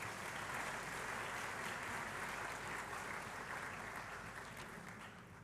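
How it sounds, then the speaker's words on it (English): An audience at an anniversary celebration applauding after a performance, dense continuous clapping from many hands that fills the room evenly and slowly tapers off toward the end. "A round of applause once again."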